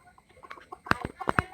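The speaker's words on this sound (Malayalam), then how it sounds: "3 പൂവനും 9ഓളം പെടയാണുള്ളത്" Several chickens from a backyard flock of three roosters and about nine hens cluck in quick, close bursts, a few louder calls clustered toward the end.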